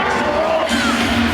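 A loud hockey arena crowd roars and cheers, dense and sustained, with shouting voices blending into the noise.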